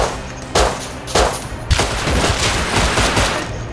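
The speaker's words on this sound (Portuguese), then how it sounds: "vamos trocar tiro com eles." Sustained gunfire in the survival game Rust, with several loud bursts and sharp shots layered over continuous crackling fire that fills the whole stretch without pause.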